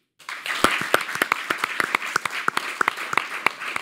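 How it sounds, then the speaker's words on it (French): A small crowd claps to welcome the mayor of Chartres, with loud, close, fairly sparse claps in an uneven rhythm that builds after a silent start. "Applaudissements."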